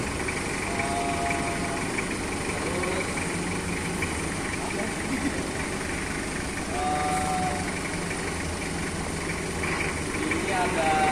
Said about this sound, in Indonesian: Pertama-tama kita starter dulu forkliftnya.